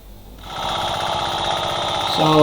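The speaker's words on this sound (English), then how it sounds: "So harrowing using a two-wheel tractor." A two-wheel tractor, or power tiller, harrowing a field in Nueva Ecija, its engine running in a steady loud rattling drone that rises slightly at the end.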